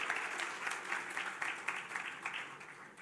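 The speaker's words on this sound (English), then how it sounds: "Our bigger round of applause for Kevin." A crowd claps for an award winner at an awards of excellence ceremony, sustained applause with individual claps audible in the wash, holding fairly even and at moderate volume throughout, with no speech over it.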